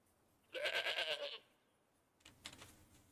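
A goat in a hunting video game set in Te Awaroa National Park gives one clear, nasal bleat nearby, then a shorter, fainter bleat follows over quiet ambience.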